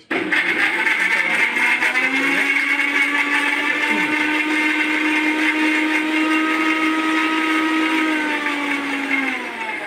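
A Philips 750 watt blender grinds whole ginger with a loud, steady high-pitched motor whine that starts abruptly and holds nearly constant for several seconds, with slight pitch shifts as the load changes.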